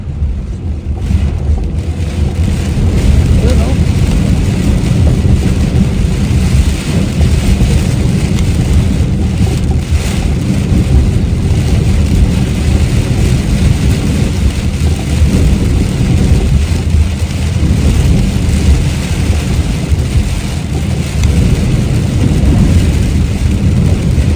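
Heavy rain in Canada pours down in a loud, steady, dense roar that runs unbroken for the whole stretch, with no voices over it.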